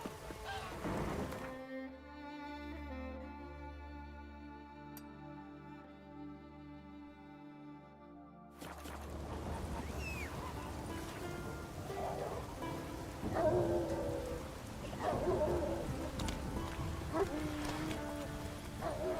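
Steady rain falling in The Witcher video game, a broad wash after an opening stretch of game music, with soft hoof-like clops and a distant rumble scattered through the patter.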